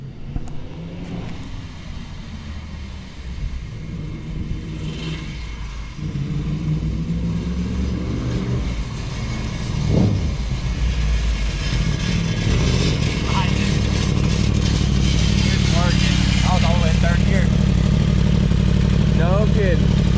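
A three-wheeler swapped with a sport-bike engine runs a lap, its engine rumbling and revving louder as it builds and approaches, while people talk excitedly nearby.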